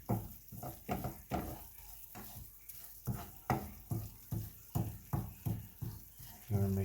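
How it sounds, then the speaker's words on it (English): Chili being stirred constantly in a pot over medium-low heat, a soft simmer under a steady rhythm of about a dozen scraping spoon strokes, close and fairly quiet. "you want to stir it constantly"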